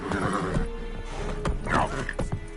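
Roach, a horse in The Witcher on PS5, lets out a loud, close whinny over hoofbeats and game ambience, while a voice talks through the moment.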